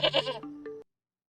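A cartoon goat gives one short, wavering bleat in a story, close and clear, then it cuts off into silence.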